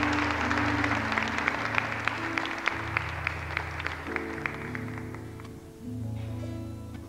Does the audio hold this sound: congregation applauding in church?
yes